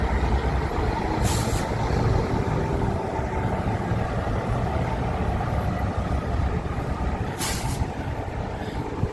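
Low engine rumble from an FRM rear-engine Routemaster bus idling, with two short, sharp air-brake hisses, one early and one late, over the steady drone.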